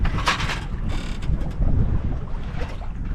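Sail and rigging on a sailboat being adjusted during a solo tack, with creaking mechanical rustles and flapping over steady wind noise and water, close and fairly loud.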